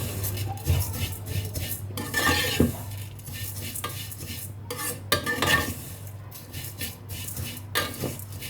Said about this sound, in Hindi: मैंने 1 चम्मच ऑयल लिया है और इसके साथ ये कप मैं सेवइयाँ इसमें फ्राई करूँगी।